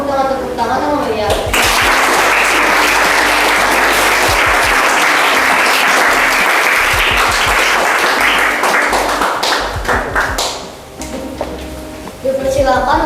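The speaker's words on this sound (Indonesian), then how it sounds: "mari kita sambut dengan tepuk tangan yang meriah" A school audience of teachers and students gives lively applause to welcome a presentation group, with loud, dense clapping that swells after a spoken introduction and fades near the end, and voices at the start and close.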